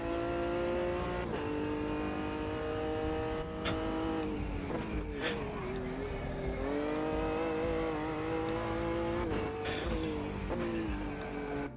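Race car engine under throttle in the racing game AMS2, a continuous high, buzzing drone whose pitch rises and falls through gear changes and lifts, with short dips and fresh climbs across the whole stretch.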